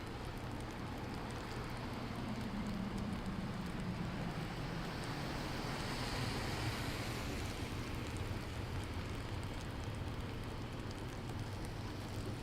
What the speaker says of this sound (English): luckily going in this direction, the rain should be behind